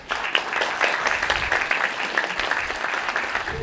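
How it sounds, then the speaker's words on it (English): An audience at a university cultural event applauds steadily, dense clapping filling the room at even loudness from start to finish with no talking over it. "big applause."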